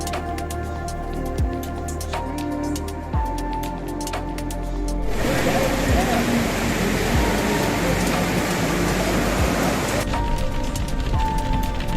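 Heavy rain in the Himalayan hills on the road toward Rudraprayag. A broad, steady roar of downpour swells in partway through over an engine-like hum, with faint tonal noise before and after.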